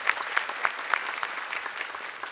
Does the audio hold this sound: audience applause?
yes